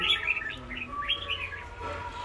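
Red-whiskered bulbul (chào mào) singing close by: a run of bright, warbling chirps and whistled phrases that rise and fall over a faint background hum, with no talking.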